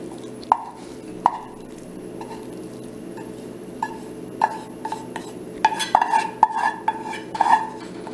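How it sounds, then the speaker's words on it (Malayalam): A spoon stirs thick carrot halwa in a metal pan, making intermittent scraping clinks and soft taps that grow busier and louder toward the end, with no talking. "ഇതൊക്കെ ഒന്ന് ചേരാൻ വേണ്ടിയിട്ട് നന്നായിട്ടൊന്ന് ഇളക്കാം"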